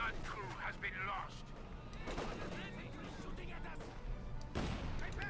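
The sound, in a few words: machine gun and gunfire in video game Company of Heroes 2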